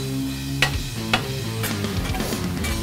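Butter melting on a hot griddle beside a pile of cheesesteak meat gives a steady, close sizzle, with a couple of sharp scraping clicks of a spatula on the flat-top.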